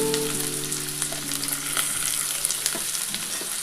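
Garlic sizzling in hot oil in a pan for a dhaba-style egg tadka, a steady close crackle with a few light stirring scrapes, no talking.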